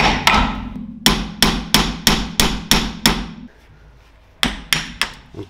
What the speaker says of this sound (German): nehmen wir uns jetzt einen Hammer.